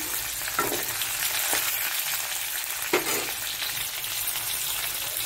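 Dried nichla fish fries in hot oil with onion, cumin and spices, giving a continuous close sizzle with a few scraping stir strokes.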